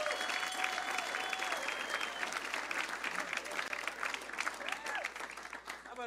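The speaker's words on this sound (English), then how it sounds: "Start clapping right now for Tony Camin." A comedy club crowd claps steadily for a comic, the applause dense and sustained throughout, with a few faint whistles rising over it.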